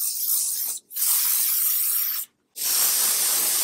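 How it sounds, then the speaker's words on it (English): Two long bursts of aerosol hairspray hissing steadily onto dry hair, close by, separated by brief pauses, with a third burst starting at the end. "spray my dry hair"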